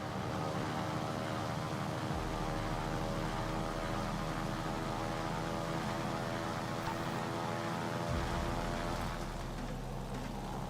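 Propeller fighter planes in World of Warships drone loudly and steadily overhead, a dense continuous engine roar with layered harmonic hum lasting throughout, with no talking.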